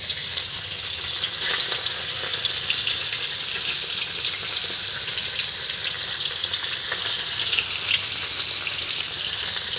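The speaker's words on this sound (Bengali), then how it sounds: "তা আমি মাছগুলো ভাজবো" Fish frying in a pan, a steady loud sizzle that stays constant throughout with faint crackles and no talking.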